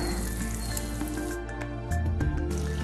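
Butter melting over low heat in a pan for a white cream sauce, a steady soft sizzle and crackle with small pops, close and continuous, growing a little fuller near the end.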